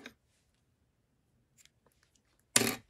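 Scissors snip through dark green yarn in a single sharp, close cut near the end, after a brief faint rustle and a mostly quiet stretch.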